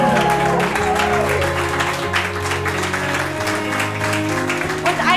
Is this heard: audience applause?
yes